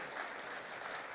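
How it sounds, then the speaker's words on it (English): Sustained audience applause for a live band at a spirituality and rhythm gathering, a steady dense wash of many hands clapping together, loud and continuous throughout with no voices above it. "Can I get another applause for the band,"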